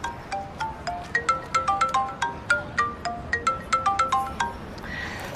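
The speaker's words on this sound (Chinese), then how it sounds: "宋阳，你还有脸打电话给我？" A mobile phone ringtone plays a bright, repeating melodic pattern of quick plucked notes, loud and close, cycling through two phrases before cutting off, with no talk over it.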